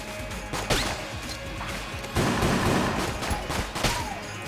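A burst of loud crashing blasts and impacts in Enter the Gungeon game audio, with a heavy grenade explosion midway and scattered hits around it.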